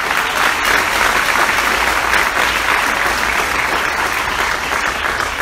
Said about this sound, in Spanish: aplauda a Jesús, por favor